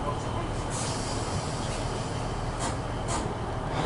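A train leaving Rhoose Cardiff International Airport station on the Barry to Bridgend line, heard from inside as a steady broadband rumble with a low hum and a few faint brighter rattles.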